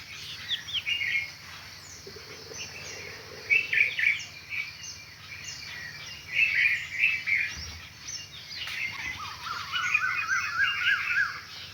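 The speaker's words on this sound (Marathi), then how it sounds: "पाखरं सगळे उठलेली आहे" Several birds chirp and trill in bursts, near and far, over a quiet background with a faint low hum.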